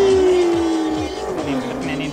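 A car engine strains and buzzes in a low gear while driving, its pitch sliding as it begins to need a downshift, with tires rumbling underneath, loud and close.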